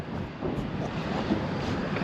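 Warm wind gusts across an outdoor spot near a bridge, a steady low rumbling buffet over the microphone that swells slightly midway, with no voices.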